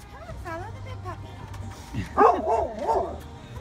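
A new puppy and a bigger dog let out high, wavering yips and barks near the end, close and fairly loud, as people talk over a low steady hum.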